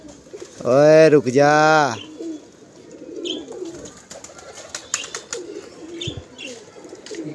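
Pigeons coo softly at close range amid light rustling and faint chirps, while a man briefly calls out over them.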